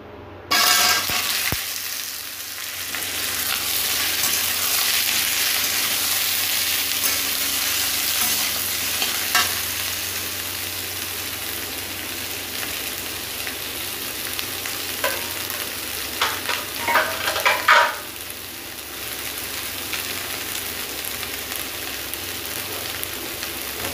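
Steamed carrots, radish, cauliflower and potatoes frying in oil for a vegetarian puja dish, a steady close sizzle with stirring scrapes and a few louder clatters partway through.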